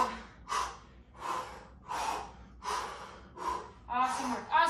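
Heavy, rhythmic breaths during a home push-up workout, about six forceful gasping exhales spaced roughly evenly, close to the microphone, with no background talk.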